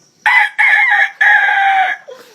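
A man imitates a rooster crowing with his voice: three loud, bright bursts in quick succession, the last one longest, ending in a brief faint trailing sound.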